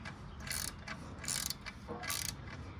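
A bolt is tightened on an aftermarket exhaust of a Triumph Street Triple 765 RS motorcycle with a ratchet wrench, giving three short bursts of quick clicking, close and quiet, with faint background hiss.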